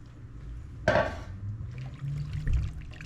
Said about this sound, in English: And that is the last of the broth going in.